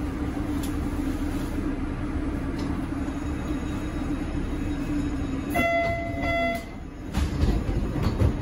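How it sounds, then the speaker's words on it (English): A Boston MBTA Red Line subway train runs near Alewife station, a steady rolling rumble inside the car, joined midway by a loud high-pitched wheel squeal and tonal whine before the noise dips and clatters on. "Yeah, it's a train."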